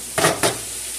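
Broccoli fries in a hot pan with a steady background sizzle, broken by two quick stirring scrapes close together.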